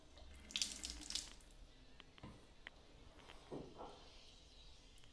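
Tap water runs briefly near waterproof Bluetooth earphones, a soft splashing burst early on followed by faint drips and small trickles, quiet overall with no talking.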